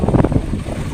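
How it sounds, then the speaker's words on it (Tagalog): Strong wind buffets the microphone outdoors, a loud, gusty low rumble with uneven bursts that ease off toward the end. "sobrang lakas ng hangin dito"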